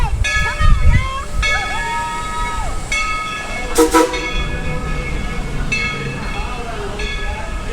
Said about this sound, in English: I think I hear the train.